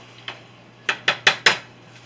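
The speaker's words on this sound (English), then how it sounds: "I'm going to stir this around and let the onions and peppers cook up a little bit." Onions, peppers and carrots being stirred in a cooking pot for a bolognese sauce, heard as five distinct scraping knocks of a utensil against the pot, the last four close together in a quick rhythm, with no talk.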